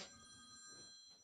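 A mobile phone rings faintly in a room at Road Atlanta, its bright electronic tone steady for about a second.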